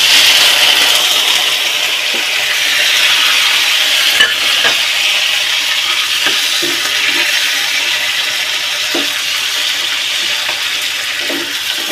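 Onions fry in hot oil with a loud, continuous sizzle, broken by occasional soft scrapes and taps of stirring close by.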